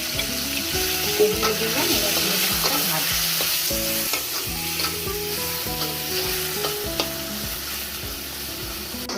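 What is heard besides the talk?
Bombay duck fish frying in a kadai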